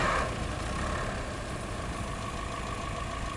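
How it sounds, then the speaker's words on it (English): Truck engine idling in the video game RoadCraft, a steady broadband rumble with a low droning tone that holds evenly throughout, near and fairly loud, with no talk over it. "Engine running."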